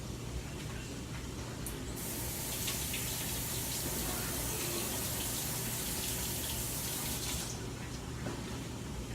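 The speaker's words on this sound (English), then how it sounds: "I'm gonna run some water on this piece." Tap water running steadily in a sink to rinse a cut onion piece, a continuous close hiss with a brighter gush in the middle stretch and no talk.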